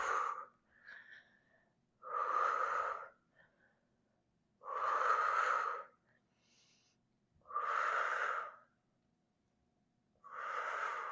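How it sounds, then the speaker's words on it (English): Strong, breathy exhales and quieter inhales during a core exercise come in a slow, even rhythm, about five close forceful breaths with near silence between them. "Exhale, pull it in. Inhale."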